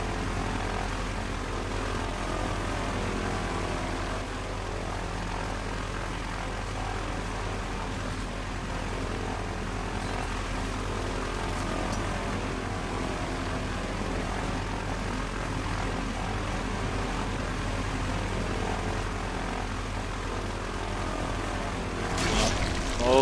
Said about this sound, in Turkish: Motorun pervanesi kesti bizi.